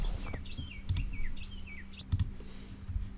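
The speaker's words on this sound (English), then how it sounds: "As you can hear some birds right here. There's birds in." Birds chirp outdoors in short repeated calls over a steady high cicada drone, with a few sharp broadband clicks and low rumbles mixed in; no one speaks.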